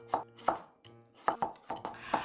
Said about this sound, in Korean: 애호박도 양파 크기만 합니다 비슷하게 썰어줍니다